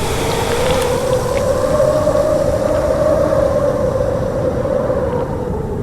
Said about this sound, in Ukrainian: А це поїзд.